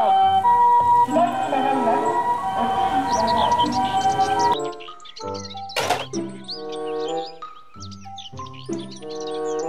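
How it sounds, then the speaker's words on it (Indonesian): Toy ambulance with a wailing electronic siren that sounds loud and continuous at first, then gives way to chirpy, stepped toy tones and short melodic beeps in bursts. "ambulans."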